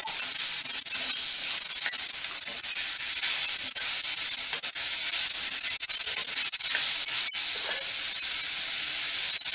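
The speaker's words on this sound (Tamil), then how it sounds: "இப்போ தக்காளியை சேர்த்துக்குவோம்" Chopped tomatoes added to browned onions in a pan for an egg and pea curry, a loud continuous hissing sizzle with a few crackles, close and steady, without talk.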